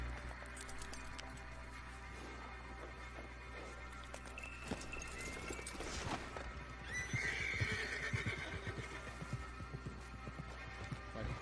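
A horse whinnies over a busy Red Dead Online game soundscape, with hooves clip-clopping and a low steady hum underneath.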